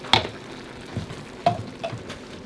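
Ground turkey mixture cooks in a pan with a soft, low sizzle, broken by a few sharp clinks and scrapes of a utensil against the pan, close and fairly quiet with no voices.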